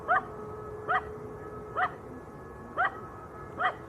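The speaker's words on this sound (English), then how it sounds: "Have you got a ball, Tom, we can throw for that dog?" A dog out near an airport apron gives five short yips or barks at a steady rhythm, each brief and moderately distant, over a constant low background rumble.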